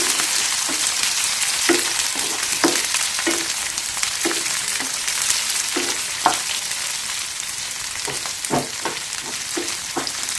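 Broad beans frying hard over a high flame, a steady loud sizzle running throughout, punctuated by regular scrapes and clacks of stirring in the pan.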